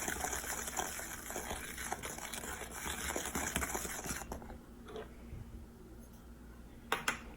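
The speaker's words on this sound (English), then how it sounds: "Stirring with a wooden spoon, or I guess you could use a whisk" Chocolate banana cake batter is stirred with a wooden spoon in a bowl, a wet, sloshing churn with soft knocks, fading to quieter scraping before a couple of sharp taps at the end.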